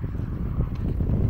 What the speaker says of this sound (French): Beaucoup de vent mais ça fait du bien.